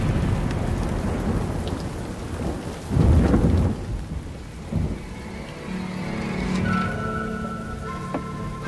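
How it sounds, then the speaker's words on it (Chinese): Steady rain falling with rolls of thunder, a loud burst of thunder near the middle and lighter rumbles around it, the downpour continuing throughout with no voices. "我们这儿常常下雨"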